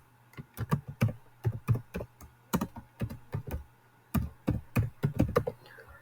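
Typing on a computer keyboard: irregular bursts of crisp key clicks, close and clear, with short pauses between groups of strokes and no talking over them.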